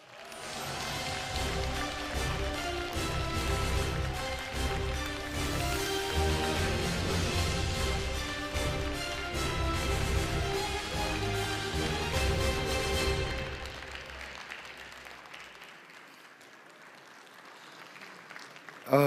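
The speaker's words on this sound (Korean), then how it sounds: "큰 박수로 환영해 주십시오." Applause at a regional policy forum as the mayor of Ulsan is welcomed to the stage, steady clapping blended with loud walk-on music for about thirteen seconds before both fade, leaving a quieter room.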